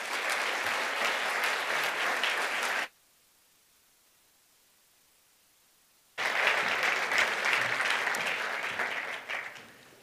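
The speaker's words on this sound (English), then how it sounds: "Please welcome him to the stage with me with a round of applause" An audience at a university presidential address applauding as the president comes on stage, steady dense clapping that cuts out abruptly into silence for a few seconds, then resumes just as strongly before tapering off.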